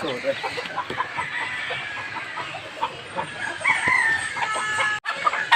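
Chickens clucking busily close by, with a rooster crowing partway through over the flock's steady chatter.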